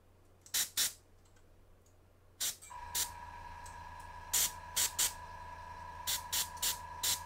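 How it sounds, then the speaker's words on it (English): An airbrush sprays paint in short, repeated bursts of airy hiss, some quick and some longer, over a steady faint whine from the compressor while a painted figure is glazed. "Kind of sprayed the bottom side of that, of his chest right there."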